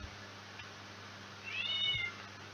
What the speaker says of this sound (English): The cat is going crazy.